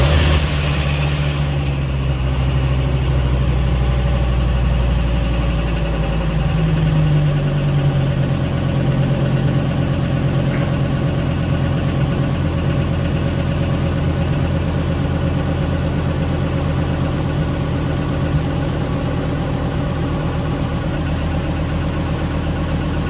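Engine of a Dodge Viper project car, just brought back to running: a steady loud idle with a deep rumble that carries on unchanged for a long stretch, and there is no talk.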